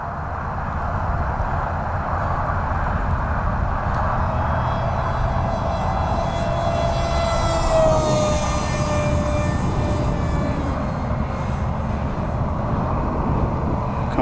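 A radio-controlled F-15 model jet with a small microjet engine makes a steady, loud turbine whine and rush throughout, swelling as it passes low and close midway, then receding slightly.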